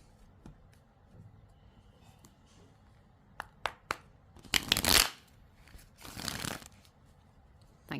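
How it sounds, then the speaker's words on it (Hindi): Tarot cards riffled and shuffled in two loud bursts after a few soft taps and handling sounds, close to the listener in a quiet room. "Last shuffle please."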